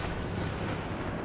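Constant barrage of explosions and blasts from a Star Wars Battlefront (2015) battle, a dense, continuous roar of booms and bursts filling the whole moment without a break.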